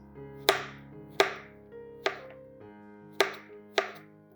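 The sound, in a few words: knife slicing zucchini into half circles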